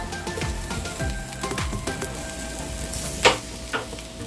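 Bratwurst sausages fry in olive oil, giving a steady close sizzle with soft spattering pops and occasional scrapes of stirring or turning, without any talking.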